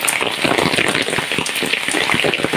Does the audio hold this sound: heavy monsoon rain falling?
yes